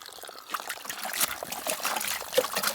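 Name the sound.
water rinsing out garden soil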